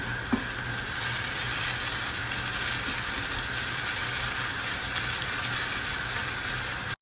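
Garlic hits a hot pan during a creamy mushroom-parmesan chicken recipe, giving a loud, continuous hiss and crackle of frying that holds steady for the whole stretch, with no voices over it.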